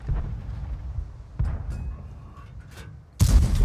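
Tank cannon shots from a Kanonenjagdpanzer in the World of Tanks video game: two heavy booming blasts, a deep thud partway through and a louder, sharper report near the end, separated by low rumbling engine noise.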